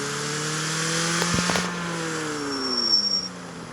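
A car engine revs in the mobile racing game CarX Street, a steady droning tone rising and falling in pitch, with a brief burst of sharper clatter partway through and no talking.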